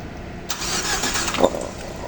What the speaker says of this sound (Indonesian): kita coba starter.